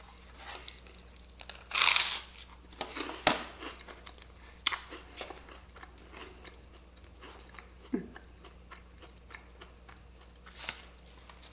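Someone chews a bite of watermelon rind jam with bits of apple, close and quiet, with soft wet crunches and smacks at irregular intervals, one louder burst near the start.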